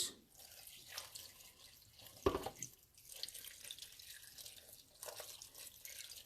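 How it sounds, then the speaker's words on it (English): Liquid is poured around a turkey and potatoes in a roasting pan, giving a soft splashing trickle with brief louder bursts. "we get that liquid, pour it all around."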